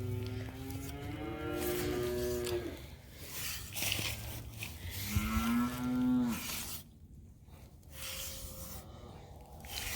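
Cows on a farm lowing in several long, drawn-out moos, one near the start and another louder one mid-way, against a steady barn background.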